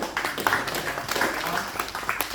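An audience at an awards evening applauds, a moderate, continuous patter of many hands clapping, with faint voices underneath.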